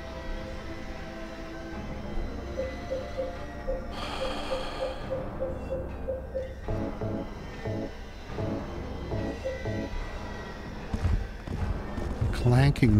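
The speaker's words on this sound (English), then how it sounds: "One of them isn't making the metal clank noise anymore." Metallic clanking from monsters in Silent Hill 2 (PC), a rhythmic run of heavy clanks that follows a series of evenly spaced tonal pulses, all under game ambience and a talking voice.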